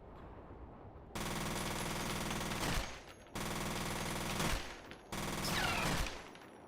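Rapid automatic gunfire in the first-person shooter F.E.A.R., loud and close, coming in three sustained bursts separated by short pauses, with no voices.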